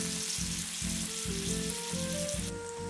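Tofu pan-fries in oil in a small frying pan, cooked in batches for braised tofu, with a steady, close sizzle and crackle running throughout.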